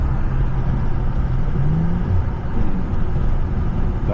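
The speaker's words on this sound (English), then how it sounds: "Downshift sound good." A car engine drones loud and close inside the cabin during a drive home, its pitch swelling briefly as it revs through a downshift over steady road rumble.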